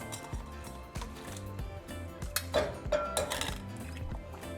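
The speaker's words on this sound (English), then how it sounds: "I'm going to be adding 1 pound of mussels, along with 2 pounds of seafood mix" Mussels and a seafood mix clatter into a pot of caldo de mariscos, with repeated clinks and knocks of shells against metal and utensils scraping, loud and close, no talking.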